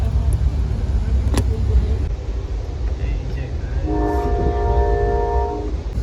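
An American passenger train rumbles loudly and steadily while running between Oklahoma and Texas, and its multi-tone horn sounds a long blast partway through over the constant rolling noise.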